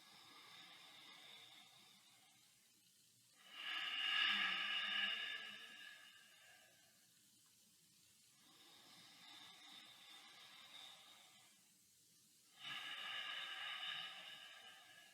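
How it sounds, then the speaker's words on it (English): Slow ujjayi pranayama ocean breathing, a soft hissing breath drawn in and let out, with two louder breath waves a few seconds apart and quieter stretches between, close and steady with no talking. "listening for that ocean breath sound that you have while taking that air in and releasing"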